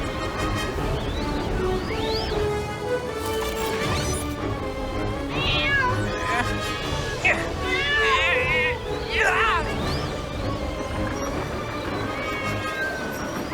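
A cartoon cat meows repeatedly in rising and falling cries through a busy animated scene. Voices talk and occasional thumps and crashes come in underneath.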